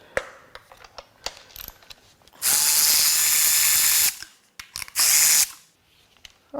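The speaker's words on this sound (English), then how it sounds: "Now we'll get the plugs out." Spark plugs are loosened from a BMW M54 inline-six with a powered socket: two loud, close whirring bursts, the first about two seconds long and the second shorter, separated by sharp clicks and taps of the tool.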